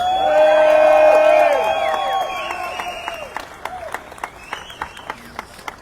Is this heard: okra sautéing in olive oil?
no